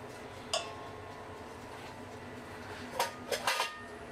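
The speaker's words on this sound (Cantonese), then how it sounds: "輕輕撈勻佢" Sifted cake flour is gently folded into chiffon cake batter in a bowl, giving a soft, quiet scraping with one early clink and a short cluster of light utensil taps against the bowl near the end.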